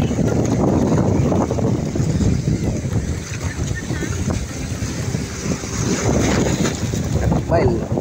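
Wind gusts across open water beside a mangrove area in the Philippines, a steady rough roar with buffeting on the microphone and faint lapping underneath, with boats nearby.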